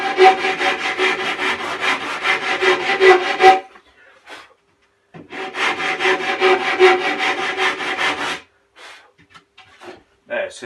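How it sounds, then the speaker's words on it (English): A sanding block rubbing along the cut mitre edge of plywood during a narrowboat fit-out, in two long bursts of rhythmic back-and-forth scraping with a pause and a few light knocks between. "so I just want to clean that edge up. And so this is where this sanding block comes in."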